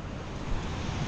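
Sea waves washing onto a clean shoreline on a breezy day, a steady broad roar of surf with wind buffeting the microphone, no voices, lasting about a second.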